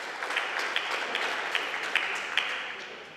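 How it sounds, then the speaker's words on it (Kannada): Audience applause honouring a volleyball player at a district championship felicitation, steady dense clapping from a crowd throughout with a few sharper individual claps standing out. "ಎಲ್ಲರ ಚಪ್ಪಾಳೆಯೊಂದಿಗೆ ಗೌರವವನ್ನು ಸಲ್ಲಿಸೋಣ"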